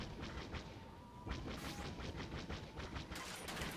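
Rapid blaster fire crackles through a Star Wars Battlefront battle on the Death Star, with repeated sharp bursts in quick irregular volleys, fairly faint and continuous over a dense background.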